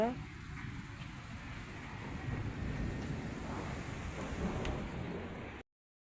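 Gusty wind roars steadily across an open space with little rain, with a low, distant rumble of thunder underneath.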